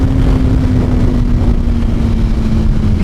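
A liter bike motorcycle engine droning loud and steady while ridden and upshifting around 8,000 rpm, a constant close roar with a sustained tone throughout.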